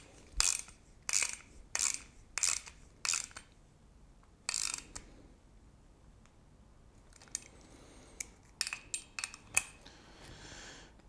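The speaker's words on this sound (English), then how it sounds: "And now I can tighten the bolt which pulls in this pin." A bolt is tightened to draw in a pin on a DIY zero-backlash rack and pinion assembly for a CNC router, producing a series of close, crisp ratcheting clicks in short bursts with pauses, then quicker scattered clicks.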